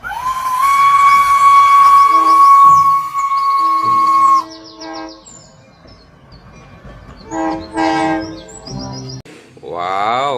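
A toy Thomas-style train gives a long, bright steam-whistle toot followed by chirpy electronic train sounds and jingles, loud and close, with a child's-toy tone throughout.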